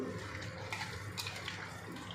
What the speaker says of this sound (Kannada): ಇದಕ್ಕೆ ಸ್ವಲ್ಪ ನೀರು ಹಾಕಿ ಒಂದು ದೋಸೆ ಬ್ಯಾಟರ್ ಗತೆ ಕಲಿಸ್ಕೋಬೇಕು